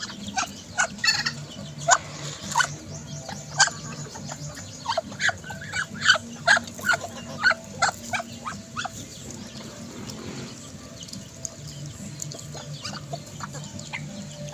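Hens and chicks in a coop cluck and cheep in short repeated bursts, with sharp high peeps scattered over a low, busy barnyard background.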